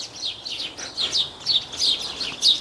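Birds chirp in quick, repeated high tweets that come in bursts, fairly close and clear, with no voices over them.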